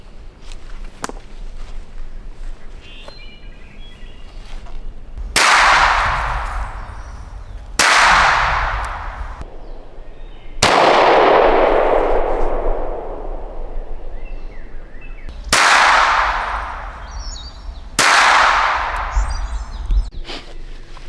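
A Springfield SA-35 pistol fires five rounds of M1152 ammunition, five sharp cracks spaced a few seconds apart, each ringing out with a long reverberant tail, loud and close, with no talk.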